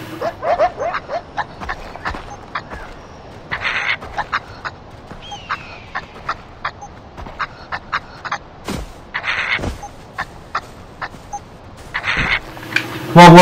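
Dogs barking in the video game Far Cry 4, with repeated sharp yips and barks in quick bursts over a game soundscape, loud and near, with a heavier burst of noise at the end.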